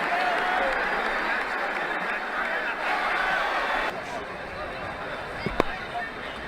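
Stadium crowd applauding and cheering after a cricket shot in Ashes Cricket 2009, a dense roar that holds steady then drops as a commentator's voice comes in.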